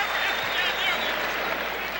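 Basketball arena crowd reacting at a 1991-92 Celtics vs Trail Blazers game, a dense, steady roar of cheering and noise under a play-by-play announcer's voice.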